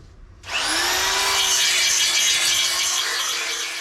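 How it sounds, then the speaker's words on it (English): A power sander starts abruptly on a Ford Escort Cosworth body panel, then runs as a loud, steady whirring grind close by, with no voices. "I'll give this a quick sand and then a coat of primer"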